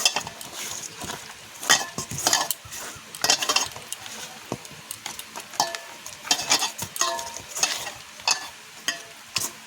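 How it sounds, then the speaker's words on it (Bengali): Fish pieces being rubbed by hand with salt and turmeric in a bowl, irregular wet squelching and rubbing bursts with occasional clinks against the dish, close and alone. "লবণটা দিয়ে মাছগুলোকে ভালো করে মাখিয়ে নেব।"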